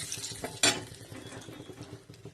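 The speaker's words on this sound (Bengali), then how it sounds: "ওই তেলের মধ্যে দিয়ে দিলাম তেজপাতা" A bay leaf drops into hot oil left from frying fish, giving one brief bright crackling burst over a low steady sizzle, with faint utensil sounds in a quiet kitchen.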